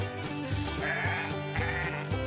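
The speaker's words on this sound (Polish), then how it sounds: "Sky znalazła owce." Sheep bleat in a Paw Patrol video game, several wavering baas in a row over upbeat game music.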